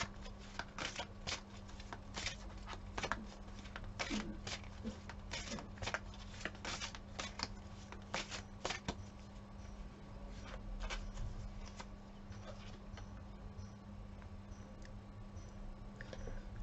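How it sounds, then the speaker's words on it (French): Small tarot-style message cards shuffled by hand: a steady run of quick, close papery riffles and soft card snaps over a faint low hum, no voices. "On va tirer une petite carte message."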